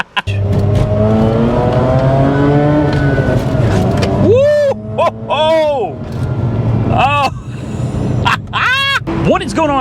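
Rotary engine of a 2004 Mazda RX8 with a six-speed runs loud and close, a steady drone rising and falling with revs, joined partway through by sharp chirping squeals.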